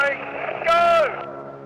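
Pratt & Whitney R985 radial engine on a wing-walking display aircraft at an air festival, a loud rasping drone that swells as the plane passes, its pitch dropping, with a commentator talking over it.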